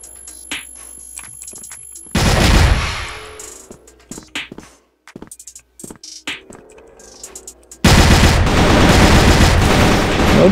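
Two loud bursts of rapid gunfire frame a stretch of quieter clicks and thuds, with sharp, punchy shots like action game audio.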